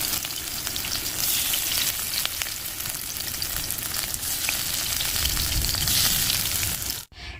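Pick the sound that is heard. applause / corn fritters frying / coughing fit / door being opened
corn fritters frying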